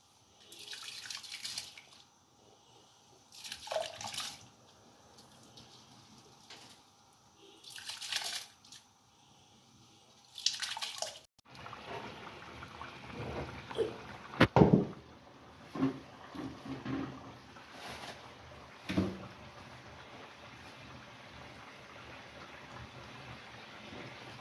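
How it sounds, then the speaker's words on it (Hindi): Starchy water drains from a pot of boiled rice for chicken biryani, coming in irregular splashing pours and trickling drips, louder bursts in the second half, with no talk. "चावल का पानी हम निकालने लगे हैं"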